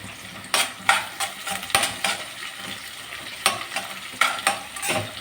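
Ingredients sautéing in a pan for sardine curry with raw mango, with a steady sizzle and about a dozen sharp spatula scrapes and knocks against the pan, close and fairly loud, without any voices.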